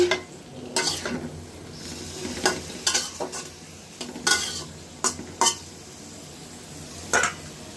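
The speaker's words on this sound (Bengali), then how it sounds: "ধনে পাতাগুলোও দিয়ে দিলাম আবার একটু নেড়ে দেবো" Small fish and radish curry being stirred in a pan with coriander leaves, a spoon scraping and clinking in irregular bursts over a soft simmer.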